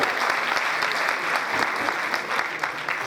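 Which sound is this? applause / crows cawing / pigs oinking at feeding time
applause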